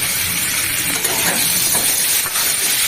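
A torn bay leaf fries in hot oil with a loud, continuous hissing sizzle, dense and close, with faint clinks now and then.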